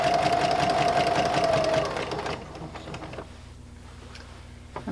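A sewing machine runs close by, stitching a line through a basted jelly roll quilt, then slows and stops, leaving faint ticking and handling noise.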